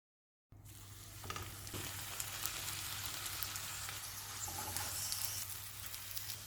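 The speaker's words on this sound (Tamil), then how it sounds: "மிதமான தீயில வேக வச்சுக்கணும்" Filled dough with masala, and cheese if used, frying in a pan over medium heat, giving a steady, close sizzle that runs without pause and with no voices.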